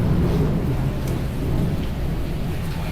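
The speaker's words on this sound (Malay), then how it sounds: "Apa ada hujan ni?" Rain falling steadily with deep rolling thunder during a storm, a dense continuous wash of drops over low rumbling, fairly loud and close, with no talking.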